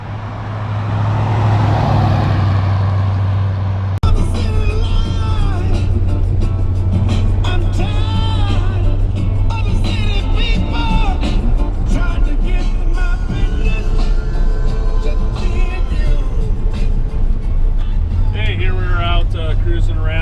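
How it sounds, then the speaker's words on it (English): A 1978 Chevy Cheyenne pickup truck drives along with a steady low engine drone and road rumble inside the cab, heard loud and continuous beneath someone talking. "Cruising around the little 78 Chevy. You know, it's a great driving truck."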